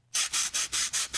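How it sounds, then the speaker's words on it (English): Styrofoam is rubbed in six quick back-and-forth strokes, each a harsh, squeaky scrape with short pauses between, close and loud. "Styrofoam."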